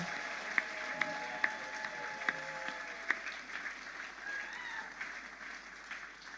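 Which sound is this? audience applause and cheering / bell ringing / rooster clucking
audience applause and cheering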